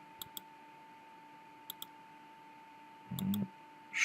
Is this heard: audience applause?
no